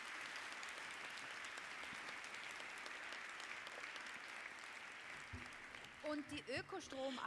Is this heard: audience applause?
yes